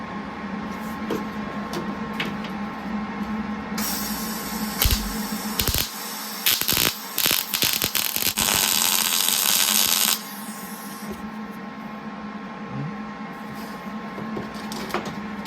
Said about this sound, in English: I'll come back and just weld that shut